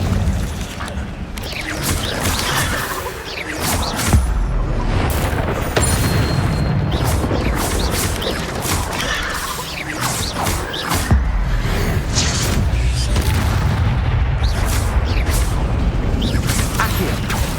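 Fire spells are cast again and again in a Hogwarts Legacy battle in the Forbidden Forest, heavy whooshing booms and crackling bursts that hit in a dense, chaotic run, with combat noises and a voice woven through them.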